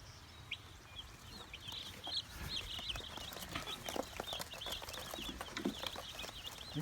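Several chickens cluck softly inside a chicken tractor, their calls scattered and near in an outdoor pen, with faint rustling and shuffling underneath.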